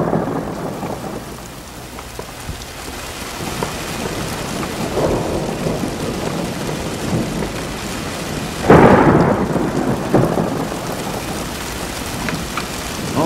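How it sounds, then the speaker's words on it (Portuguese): Heavy rain pours steadily while thunder rumbles, with a loud, sharp crack and a rolling boom partway through, then the downpour continues. "Nossa, quanta chuva, hein?"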